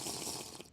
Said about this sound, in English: I'm gonna run on out, get a drink of water